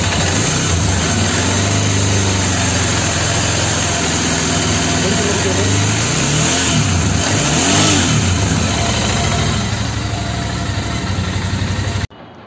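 Royal Enfield Interceptor motorcycle engine with a fault, loud and close, idling with a throbbing pulse and then revving up and down in rising and falling sweeps before cutting off abruptly near the end.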